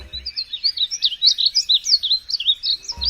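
Small songbird with bright yellow-green plumage singing a fast, continuous run of high, warbling chirps and trills, loud and close, with no talk over it.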